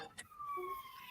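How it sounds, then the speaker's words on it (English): A siren passes by outside a house, a faint wailing tone sliding and holding over a quiet background in a brief moment. "who's got sirens going past their house? Me. Oh, gotta love the siren."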